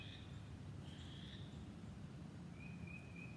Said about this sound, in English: And I can hear a bird.